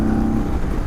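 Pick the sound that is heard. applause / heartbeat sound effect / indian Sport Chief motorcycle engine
indian Sport Chief motorcycle engine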